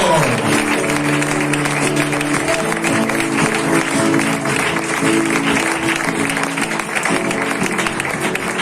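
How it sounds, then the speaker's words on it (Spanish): A church congregation applauds during a service, a dense, sustained round of clapping that carries on steadily at strong volume for several seconds. "Un aplauso para el Señor."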